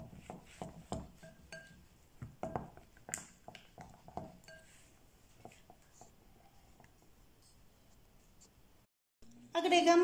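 Yoghurt cake batter stirred in a bowl, a series of clinks and scrapes of a utensil against the bowl, fairly close, with a quieter stretch near the end, then a soft voice speaks.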